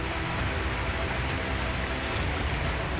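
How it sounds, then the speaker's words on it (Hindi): Heavy monsoon rain pouring down in Dwarka, Gujarat, a dense, loud, continuous hiss of downpour with no breaks and no voices. "यहाँ कई दिनों से मूसलाधार बारिश हो रही है"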